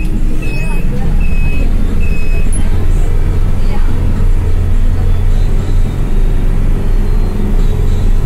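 Heavy road traffic in a jam in Jogja near Malioboro, with a loud continuous engine rumble from buses and cars, a few short high beeps near the start, and talk over the din.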